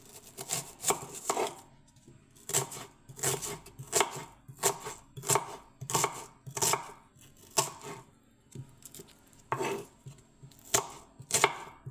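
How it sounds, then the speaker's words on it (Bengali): A knife chopping onion on a board, a run of quick, close taps in short bursts with brief pauses between them, fairly quiet and steady throughout. "এবার আমি পেঁয়াজ কাটবো"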